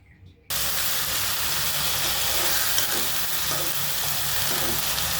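Onion and green chilli drop into hot mustard oil in a pan, setting off a sudden loud, continuous frying sizzle and hiss after a brief quiet start. The sound stays close and steady with no talk over it.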